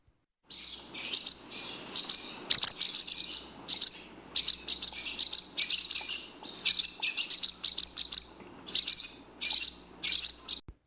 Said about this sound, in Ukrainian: Ось послухайте, які ж пісні виспівують сільські ластівки.